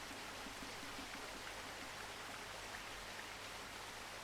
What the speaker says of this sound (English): we hear water in the background